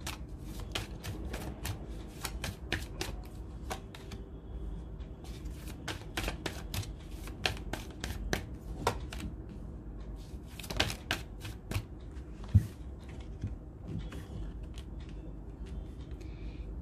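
Tarot cards shuffled by hand, giving a steady run of crisp riffling and flicking snaps with brief pauses, close and fairly quiet, with no talk.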